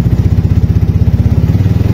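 A carbureted Yamaha Mio scooter fitted with an NMAX regulator runs close by, its engine giving a steady, rapid pulsing drone with a clattery edge throughout. No voices are heard.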